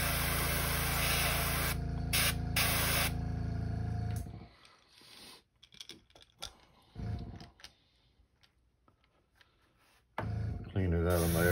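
Airbrush spraying thinned blue-back shad paint, a loud continuous hiss for about four seconds with brief interruptions, then a quieter stretch of handling noises and clatter before the spray resumes.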